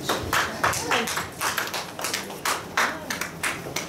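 Church congregation clapping hands in a fairly steady rhythm, a roomful of claps pulsing roughly twice a second, with voices murmuring underneath.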